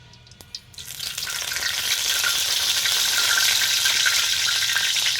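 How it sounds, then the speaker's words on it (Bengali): Dry red chilies drop into hot oil for tempering greens, and a loud, steady sizzle builds within a second or two and then holds close and continuous with no talk. "এখন দিয়ে দিব এই যে শুকনা মরিচ ফোড়ন"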